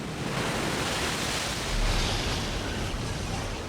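Heavy ocean surf pounds the storm-battered coastline at the Cape of Good Hope, a dense, steady roar of breaking waves with a brief surge near the middle, with no voices.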